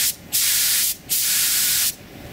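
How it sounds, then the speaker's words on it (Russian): A paint spray gun sprays lacquer in two long, loud hissing bursts separated by brief pauses, close by and with no voices. "я вам на лаке покажу, как у нас распыляется."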